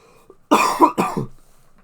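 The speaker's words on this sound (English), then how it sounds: "Sorry, I got a bit of a cough." Two or three harsh coughs in quick succession, close and fairly loud, after a brief quiet moment, with a softer rough tail.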